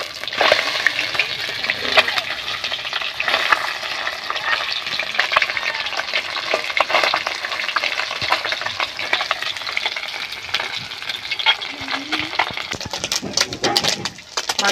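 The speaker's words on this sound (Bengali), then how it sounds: "মাছগুলো ভাজা হয়ে গেছে, তুলে নিচ্ছি।" Small chuno fish fry in a pan of hot oil, giving a steady, close sizzle with light stirring and scraping throughout, no talking over it.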